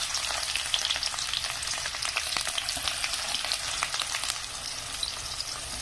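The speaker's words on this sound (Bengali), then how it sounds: "গোটা জিরে দেওয়ার পরে ওটা একটু ভাজা ভাজা হয়ে এলে এখানে আমি দিয়ে দেবো কুচে রাখা পেঁয়াজ" Whole cumin seeds and chopped onion fry in hot mustard oil with a steady, dense sizzle and crackle, plus occasional stirring scrapes, alone with no talk.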